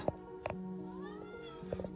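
A house cat gives several short, quiet meows, one near the start, one shortly after and a couple more close together near the end, over a steady low background hum.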